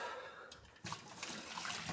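Hot water that has been boiling pours out of a cooking pot, starting as a soft trickle and then surging into a fuller, steady splashing stream near the listener.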